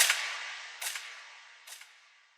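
A gunshot sound effect in an industry drill beat, played three times in fairly even succession as sharp bursts with hissing tails that grow fainter with each shot.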